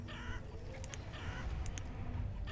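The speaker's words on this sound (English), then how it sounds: "As you can see, I have chickens here, which is amazing." Chickens cluck in the village-building game Banished, soft repeated clucks and bird calls over a steady ambient bed of game sound, with no talking.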